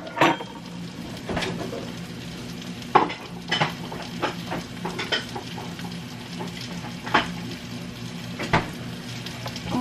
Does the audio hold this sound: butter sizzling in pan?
yes